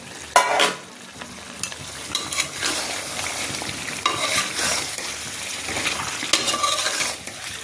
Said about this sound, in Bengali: এখন আমি চিকেনটা একটু সটি করে নিব